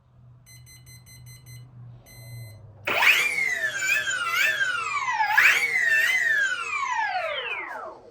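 A Flex Innovations Gold Power Pack Mamba 60E electronic speed controller sounds its programming tones: a faint series of short repeated beeps, then loud rising and falling motor-driven warbling tones that sweep up and down before fading, alone without speech.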